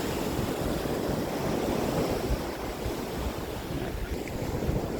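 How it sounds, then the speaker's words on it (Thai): Steady broadband surf rolls in continuously at Laem Sing beach in Chanthaburi, with loud, constant wave wash and wind buffeting the microphone, no voices. "อันนี้ก็คือหาดแหลมสิง ก็ดูเอาครับงามบอกงาม"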